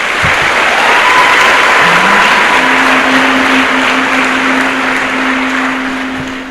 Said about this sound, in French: Applaudir pour nos mamans.